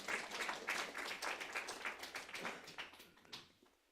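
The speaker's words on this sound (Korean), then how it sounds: "다시 한번 박수 쳐줍시다" A church congregation claps in a quick, fairly even rhythm of sharp, close hand claps that thins out and stops near the end.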